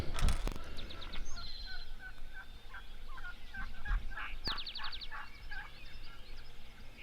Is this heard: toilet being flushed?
no